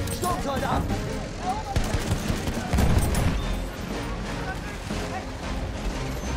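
Sustained machine gun fire from a Battlefield 1 tank, mowing down enemies crossing a street, rattles steadily in dense rapid bursts mixed with battlefield rumble, loud and close throughout, while a voice talks over it.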